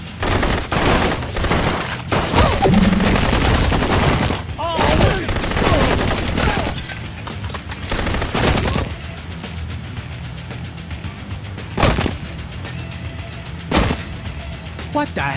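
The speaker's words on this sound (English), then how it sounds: "Shoot the shark!" Rapid bursts of video-game gunfire aimed at a shark crackle in loud, repeated volleys, some sustained and some isolated shots, with excited voices talking over the shooting.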